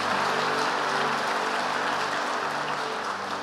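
Steady, dense clapping from a church congregation at a worship service fills the whole stretch, loud and continuous without pause.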